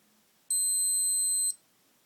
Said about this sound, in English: That's as much as an alarm you get when the countdown timer gets to 0.